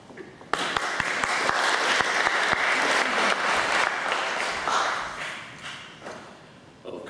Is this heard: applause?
yes